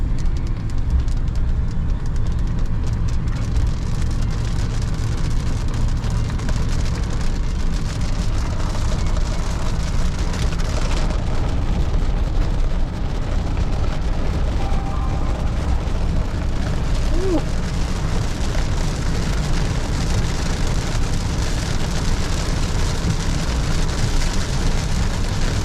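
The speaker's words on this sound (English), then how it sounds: "And it's raining." Steady rain falling around a stopped Chevrolet Tahoe Z71, a dense continuous hiss and patter with a low rumble underneath, loud and unbroken throughout.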